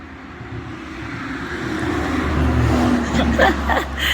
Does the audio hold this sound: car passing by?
yes